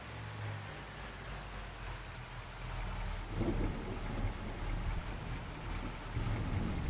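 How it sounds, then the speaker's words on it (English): Rain and distant thunder in the video game Farming Simulator 25, a soft steady patter with low rumbles swelling midway, faint and without speech. "It's just been a rainy day."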